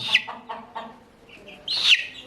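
Young chickens, including a rooster chick, cluck and cheep close by in a few short separate calls, ending in a louder, longer squawk.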